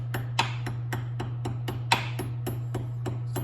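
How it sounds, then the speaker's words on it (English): A hammer taps gently and steadily around a stripped screw, giving a regular series of light, close metallic clicks over a low steady hum. "You take the hammer, just tap it gently, walking around the screw with the hammer."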